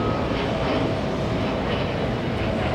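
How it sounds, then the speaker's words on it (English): Virgin Atlantic airliner taking off at JFK airport, a steady broadband jet roar holding at moderate distance throughout with no voices. "Virgin Atlantic taking off as well."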